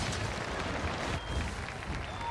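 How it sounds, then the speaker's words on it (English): Crowd roaring and cheering in an esports arena during a Dota 2 match at The International 2021, a steady dense wash of voices and scattered clapping that holds throughout with no single voice standing out. "The crowd's going wild"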